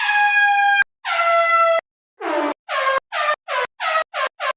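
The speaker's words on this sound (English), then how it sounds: "Starting off big, we have air horns." An air horn item in a video game blares in two long blasts, then a series of shorter, quicker honks with brief silences between, no other sounds.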